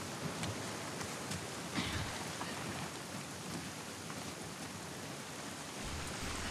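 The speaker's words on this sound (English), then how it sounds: "Let's get out of the rain." Steady rain falls in The Last of Us Part 2 video game, a soft, constant hiss of drops on surfaces with scattered closer patters and a faint low rumble underneath, no voices.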